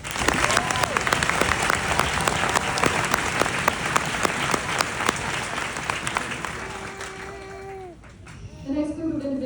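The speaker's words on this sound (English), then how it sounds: "please join me in a round of applause for our band" A crowd at a military bootcamp graduation ceremony gives the band a round of applause. The clapping is loud and sustained, with whoops and voices mixed in, and it fades toward the end as a few people talk.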